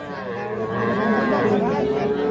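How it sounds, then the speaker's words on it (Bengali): At a village cattle market, a young bull calf about two months old gives one drawn-out moo, close and loud, over a murmur of people talking in the background. "এটা ষাঁড় বাচ্চা"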